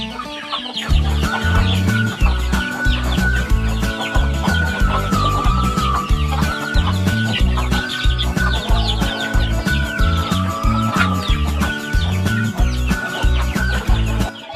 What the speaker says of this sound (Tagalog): So ayun mga farmer, kumakain na yung mga manok natin, no?